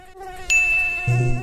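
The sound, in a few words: mosquito buzzing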